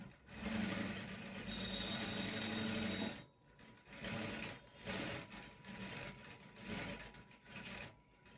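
Sewing machine stitching a blouse, a steady loud whirring run for about three seconds, then shorter start-stop bursts with brief pauses, close up, with no talking.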